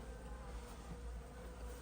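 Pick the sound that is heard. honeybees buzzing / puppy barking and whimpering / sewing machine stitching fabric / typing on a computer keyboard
honeybees buzzing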